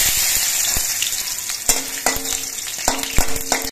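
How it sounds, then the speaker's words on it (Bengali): Cashews and raisins frying in hot mustard oil sizzle steadily and loudly throughout, with a few sharp spoon stirs and clinks against the pan near the end. "তেলটা গরম হয়ে যাওয়ার পর এর মধ্যে কাজু আর কিশমিশগুলো খুব হালকা করে ভেজে নেব"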